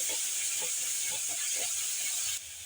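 Garlic paste frying in a hot pan, a steady bright sizzle with soft crackles, close and continuous, then dropping slightly at the end.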